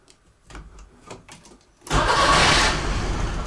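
A Trabant 601 two-stroke engine is started with the starter: a few faint cranking whirs give way to a sudden loud, rough, buzzing run that holds steady close by.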